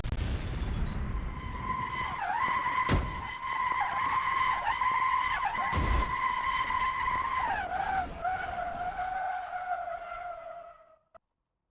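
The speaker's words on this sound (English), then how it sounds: "When the engine seizes, the driven axle locks up, causing the vehicle to skid and potentially crash." A race car in Assetto Corsa skids after its engine seizes, locking the driven axle: a loud continuous tire squeal with wavering pitch and two sharp knocks, trailing off and fading at the end.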